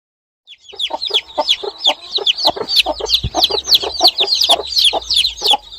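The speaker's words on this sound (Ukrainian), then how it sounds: "до одної курочки туляться одні курчата, а до іншої курочки туляться інші курчата" Hens cluck softly while chicks cheep rapidly and continuously, a busy chorus of high peeps close by with no talking.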